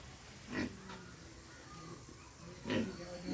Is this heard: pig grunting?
yes